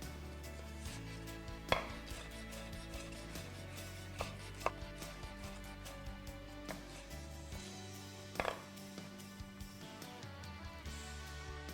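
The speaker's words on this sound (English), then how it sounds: "Trim away the woody portion of the stem and cut the stems into small pieces, along with any remaining florets" A knife chops broccoli stems and leftover florets into small pieces on a board for broccoli cheddar soup, giving irregular sharp thuds over steady background music.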